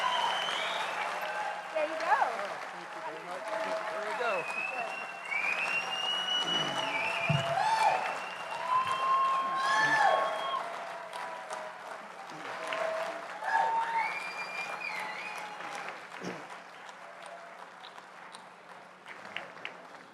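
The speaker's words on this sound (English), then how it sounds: "could you please give your loudest round of applause of the evening" A dinner audience at the 2022 Manatee Chamber of Commerce Annual Dinner gives Phil Baker a warm welcome with sustained applause, sprinkled with whistles and cheering voices that rise and fall over about twenty seconds.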